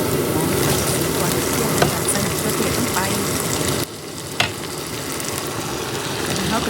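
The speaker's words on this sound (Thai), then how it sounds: "ใส่น้ำมันลงไปใส่หัวหอมลงไปเนาะค่ะ ผัดไป" Onions stir-frying in oil in a pan, a steady close sizzle with soft stirring scrapes running throughout.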